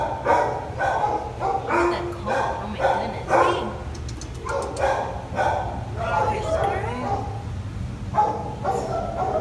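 Dogs barking at a dog enclosure beside a flower garden, several sharp barks repeating at close range amid crowd chatter and people talking.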